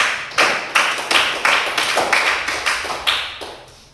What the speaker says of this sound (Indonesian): kalau pas kita berikan aplaus untuk kelompok 1